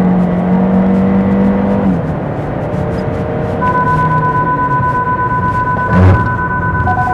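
A 2024 Kia Sportage undergoing an automatic emergency braking test, with a steady loud road and engine roar, whining tonal hums that shift partway through, and a brief burst near the end as the car brakes by itself.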